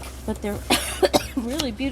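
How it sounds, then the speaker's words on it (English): Someone stifles a cough, producing short muffled throat bursts mixed in with their own ongoing talk, close and moderately loud. "I'm trying not to cough. That's that weird sound you hear"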